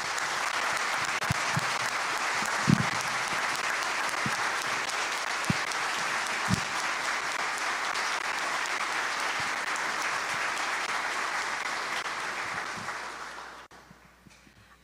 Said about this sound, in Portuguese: Convidamos neste momento a todos a darmos uma salva de palmas ao nosso Senhor Jesus.